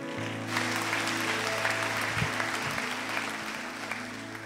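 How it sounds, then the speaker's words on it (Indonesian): Audience applause breaks out at a church service as a first-place winner is announced, a sustained wash of clapping from a large crowd that holds steady throughout with no talk over it. "Kalian tepuk tangan, you have to see me."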